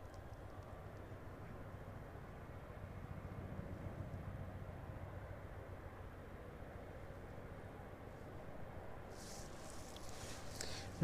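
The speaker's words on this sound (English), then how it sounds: "the Aerologic 777 making its way back up towards us now" An Aerologic Boeing 777 cargo plane taxis at East Midlands Airport, a steady, fairly distant jet engine rumble and hiss that swells slightly and then holds, with faint higher whine near the end.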